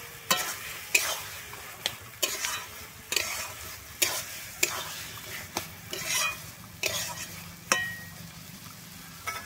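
Thor (banana stem) curry is stirred in a pan right after ghee goes in, a spoon scraping the pan in steady strokes about once a second over a soft continuous sizzle.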